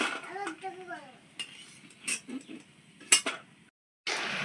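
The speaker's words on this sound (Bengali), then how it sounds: "দেখুন আওয়াজটা শুনেই বুঝতে পারছেন যে কতটা মুচমুচে হয়েছে" A spatula scrapes and clatters against a pan while stirring crispy fried ripe mango snack, scattered sharp taps and rustles, with a voice speaking softly at the start.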